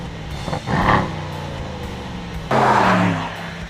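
A 2015 Mercedes-AMG C63 with a 4-litre twin-turbo V8 revs loudly on the road. The engine note swells in two strong surges with a rising, roaring pitch and slight tire noise.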